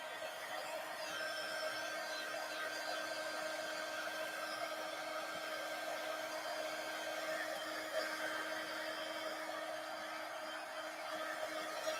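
Hair dryer blowing steadily on a collage pumpkin artwork, a constant, fairly quiet whooshing hum with a faint whine that holds unchanged throughout, without any talk.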